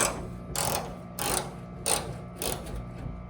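Ratcheting wrench loosening bolts while a new hood is fitted on a classic Ford Mustang, four short bursts of clicking spaced about every half second over a low steady background.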